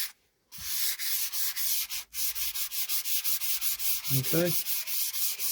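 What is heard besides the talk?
wet and dry sandpaper sanding a fishing rod blank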